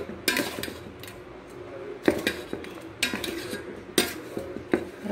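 A spoon stirs a sweet breakfast mixture with cardamom powder and roasted cashews in a metal pot, giving rhythmic scraping strokes and clinks roughly once a second, close and fairly loud, no talk.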